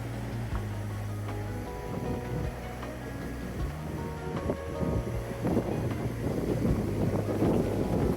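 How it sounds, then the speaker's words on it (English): Wind gusts across a mountain trekking trail in the Everest region, a steady low roar with rising buffeting bursts toward the end, mixed with faint rushing water in the background. "Quite windy here."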